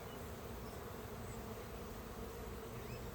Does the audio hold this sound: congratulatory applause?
no